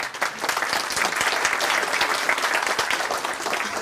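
Audience applause after a conference talk on security logging, a steady, dense burst of clapping filling the room for about four seconds with no speech over it.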